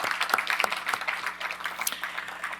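An audience applauds at an evening history talk on the presidencies of George Washington and John Adams: a steady patter of many hands clapping at moderate volume, with no voices over it.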